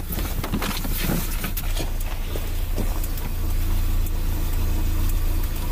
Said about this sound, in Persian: ماشین روشن گذاشت رفت.